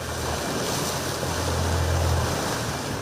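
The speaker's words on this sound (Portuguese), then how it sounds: "Parece que o motor da lancha não vai resistir à força da correnteza." A motorboat runs on a river, its low engine drone straining against the current beneath loud rushing water and wind noise, steady throughout.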